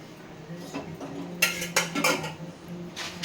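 Food being mixed with turmeric and oil in a bowl, heard as soft clinks and scrapes of a utensil against the dish in short bursts, fairly close with a quiet room behind.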